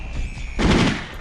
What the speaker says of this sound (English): We're setting all these explosions off